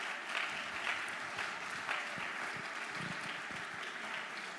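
An audience applauds community volunteers at an awards ceremony, a steady crowd clapping that holds evenly for several seconds with no voices over it.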